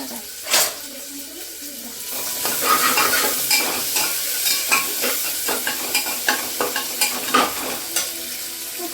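Onions frying in a pan while being stirred: steady hot sizzle runs under a series of regular scraping strokes, fairly close and loud, with no talking.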